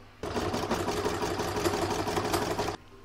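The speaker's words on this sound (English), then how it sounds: "So now I'm going to pop it back in my machine. It's going to do the edge stitching" An embroidery machine runs an edge-stitching pass on an in-the-hoop crazy patch bookmark, giving a steady, fast mechanical whirr with rapid needle pulses for about two and a half seconds, then stopping abruptly.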